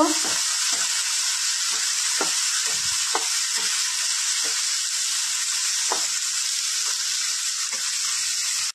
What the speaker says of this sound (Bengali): আমি এবারে এইগুলো দিয়ে সব ভেজে নেব